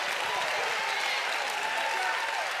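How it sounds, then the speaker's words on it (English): A church congregation claps during a sermon, a dense, continuous burst of applause from a crowd filling the room for a few seconds, with no speech over it. "Clap your hands, somebody in this house."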